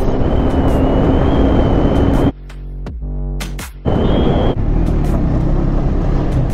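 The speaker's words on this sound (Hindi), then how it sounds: "वर्जन 3 पे 390 और डोमिनार के साथ रेस लगा रहे हैं।" Motorcycles racing on a highway, including a KTM Duke 390 and a Bajaj Dominar, give a loud continuous engine and wind roar that drops away briefly mid-clip while engine tones rise and fall, then returns at full strength.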